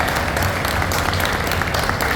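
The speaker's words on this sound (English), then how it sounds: "a round of applause" Steady, dense applause from a crowd at an AnimeNYC 2025 panel, continuous throughout with a busy roar of many hands and some murmuring underneath.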